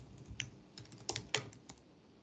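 Fingers tap out a short burst of keystrokes on a computer keyboard, several crisp clicks at uneven intervals, close and fairly quiet with no speech.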